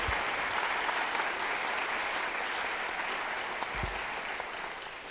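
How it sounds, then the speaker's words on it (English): A lecture audience gives a warm round of applause, a steady, moderately distant wash of many hands clapping that fades slightly toward the end. "So let's give them a warm round of applause."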